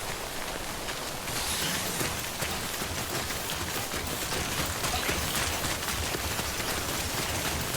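Timefall rain pours steadily in Death Stranding, a dense even hiss of falling drops that grows slightly heavier after the first second, with nothing else standing out.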